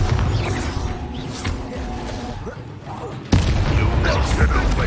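A Bombarda spell explodes in Hogwarts Legacy on PS5, a booming blast that jumps in loudness late in the moment, layered over dense combat clatter and rumbling battle noise.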